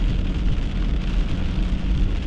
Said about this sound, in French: Il n'y a pas eu grand vent, la pluie forte, quelques éclairs.